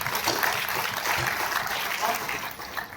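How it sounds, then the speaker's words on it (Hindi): Dense audience applause at a Hindi kavi sammelan poetry recital, even and continuous for a few seconds, with a voice faintly audible beneath it. "आप तालियों से आदेशित कीजिए मुझे"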